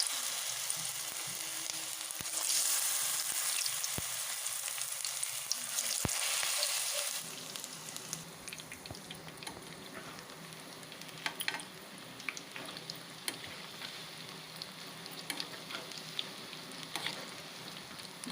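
Batter-dipped banana flower deep frying in oil, a loud bright hiss for the first several seconds that then drops to a softer, steady bubbling crackle with scattered pops, close by and without voices.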